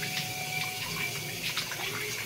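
Water runs steadily from a tap into a sink, a constant close hiss and splash that holds at an even loudness throughout, with no voices.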